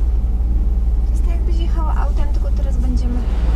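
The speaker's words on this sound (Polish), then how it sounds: "Minęło 5 minut i samochody wyjeżdżają z tego promu" Cars rolling off a ferry crossing the Oslofjorden in Norway, a heavy low pulsing engine rumble close by with faint passing vehicle noise layered on top.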